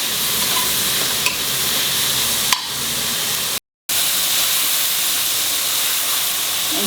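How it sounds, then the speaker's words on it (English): Dry shrimp curry frying gently in a pan over a low flame, a steady soft sizzle and hiss with a couple of faint clinks and a brief cut to silence midway. "And see that you fry it nicely."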